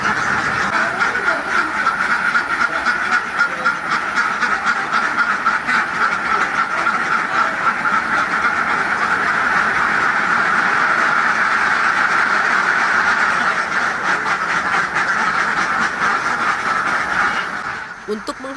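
Flock of Mojosari laying ducks at a farm in East OKU, a dense continuous chorus of quacking, loud and steady throughout, with a voice faintly audible beneath before it fades at the end.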